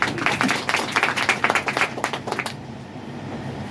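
An audience claps for an honored guest at a celebration function, a burst of brisk, fairly close applause that stops abruptly after about two and a half seconds, leaving quiet room tone.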